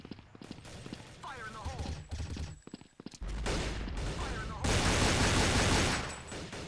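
Gunfire in the shooter game First Blood: dense, loud bursts of rapid shots that grow heavier in the second half, following a stretch of brief voices and softer game noise.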